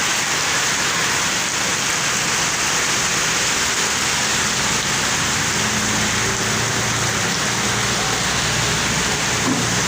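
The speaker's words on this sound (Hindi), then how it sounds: "बहुत ज़ोरों से बारिश हो रही है।" Heavy rain pours down in a dense, unbroken hiss, loud and steady throughout, with no voices.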